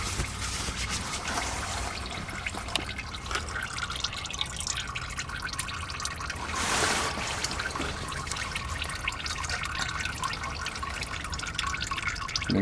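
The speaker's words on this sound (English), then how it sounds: "Make sure you have a pan that's big enough to catch all this oil." Engine oil from a 7.3 Powerstroke diesel drains in a steady trickling stream into a catch pan, a continuous close pour with a brief louder splash midway.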